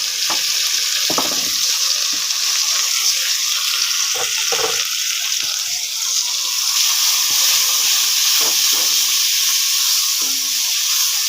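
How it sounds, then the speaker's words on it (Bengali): Spice paste with onion, garlic and green chili fries hard in a pan for a kutch-lotir preparation, a loud continuous sizzle and hiss with occasional stirring scrapes and clinks throughout, no speech. "মশলাটা সুন্দর করে ভাজতে হবে, কাঁচা গন্ধটা যেন দূর হয়"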